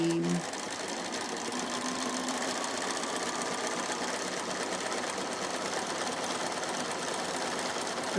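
A sewing machine runs a zigzag stitch while making zippy pouches and tote bags, a continuous fast mechanical whirr and clatter at low level that carries on unbroken after a brief hum at the start.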